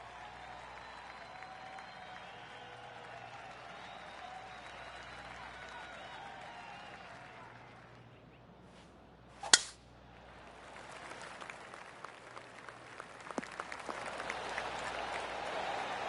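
A crisp club strike in the PGA Tour 2K23 golf video game is followed by a polite golf clap from the gallery. The soft applause swells and patters for several seconds under quiet commentary.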